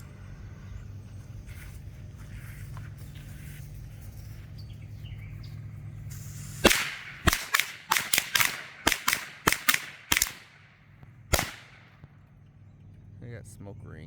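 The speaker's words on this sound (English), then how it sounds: "These are the Great American Fireworks Firecrackers." Great American Fireworks firecrackers go off outdoors in a quick string of about ten sharp, loud bangs over roughly five seconds, irregularly spaced, followed by one last pop and quiet.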